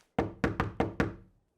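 Five sharp knocks on a door, the first alone and the rest in a quick run, hollow and close with short decays, then quiet.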